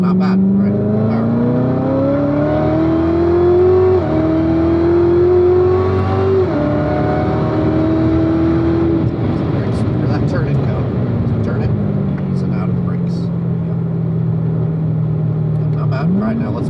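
A race car accelerates hard out of a corner, the engine note climbing through rising revs with a gear change midway, then settling into a steady drone, with a driving instructor talking over the loud engine throughout.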